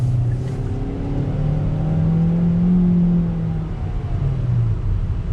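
A 2020 Kia Forte GT-Line with a CVT pulls out into traffic under throttle, its engine droning steadily with a rising tone, close and continuous for several seconds, with no talk.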